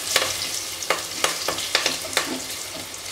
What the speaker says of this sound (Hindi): ये ग्रीन चिल्ली को भी हमें अच्छे से भून लेना है